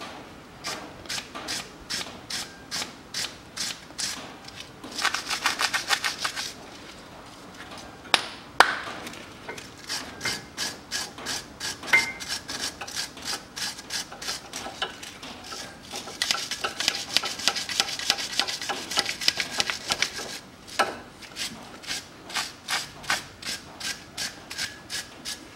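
Old grease being cleaned and scraped off a brake guide pin on a 2008 Citroen C-Crosser 2.4, heard as rapid rhythmic rubbing and scraping strokes in bursts, close and fairly quiet, with no talking.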